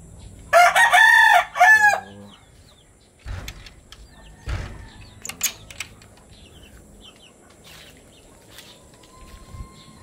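Gamecock rooster crowing on a fighting-cock breeding farm, one loud near crow lasting about two seconds, followed by scattered clucks, clanks and soft background fowl noise.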